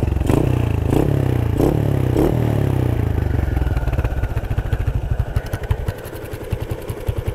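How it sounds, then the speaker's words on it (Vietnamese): A motorcycle engine fitted with an aftermarket exhaust revs in a few pulsing blips, then settles into a fast, throbbing idle with a rough, popping beat, heard close up. "Nghe thử cái tiếng máy xem có đủ khả năng để chạy ra tới Nha Trang không."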